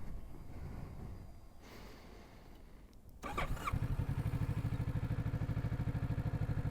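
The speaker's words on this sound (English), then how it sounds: "Parallel twin 650, they really do have a distinctive sound, don't they?" A 2024 Kawasaki Ninja 650 parallel-twin motorcycle engine fires up after a low rumble, settling into a loud, steady, throbbing idle with a pulsing twin-cylinder beat.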